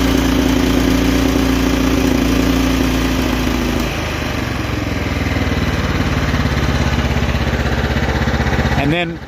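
A Kohler Power Plus 17 small engine idles loudly and close up, a steady rumbling drone with a slight shift in tone midway, holding on until it cuts off abruptly at the end.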